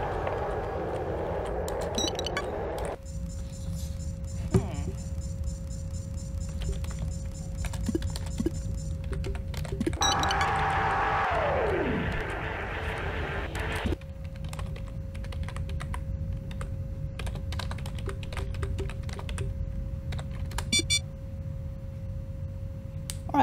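Typing on a computer keyboard during a game of Duskers gives bursts of rapid clicks that come and go over a steady electronic hum, with tones and a falling sweep from the game in between.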